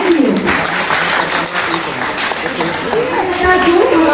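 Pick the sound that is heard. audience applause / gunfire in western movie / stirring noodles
audience applause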